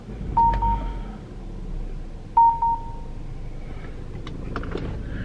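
Peugeot 3008 Allure 1.6 THP automatic (2020) switched on with keyless start: two short bursts of electronic chime beeps, a couple of seconds apart, over a quiet low cabin hum, then a few fainter clicks.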